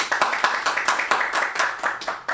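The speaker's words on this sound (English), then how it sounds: "Can you please clap it up for Mr. Davis Dodge?" A small group claps in a quick, uneven rhythm of sharp hand slaps, with roughly a dozen distinct bursts over a couple of seconds, close and fairly loud.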